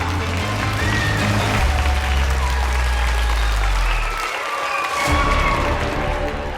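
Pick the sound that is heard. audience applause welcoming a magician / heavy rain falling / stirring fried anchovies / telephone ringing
audience applause welcoming a magician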